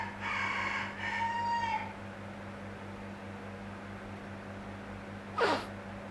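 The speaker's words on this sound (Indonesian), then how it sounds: "kalau misalnya kalian mendengar suara ayam, itu ayam tetangga gue" A neighbour's rooster crows once in the distance, a long wavering call, followed later by a short squawk over a low steady hum.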